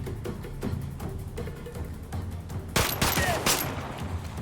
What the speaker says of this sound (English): I'm being shot from multiple directions